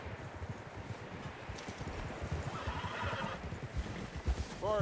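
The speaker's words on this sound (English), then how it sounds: "Horses, quite a few of them." Several horses in Red Dead Redemption 2 trot with steady clip-clopping hooves under a low rumble, and a whinny rises near the end, fairly close and moderately loud.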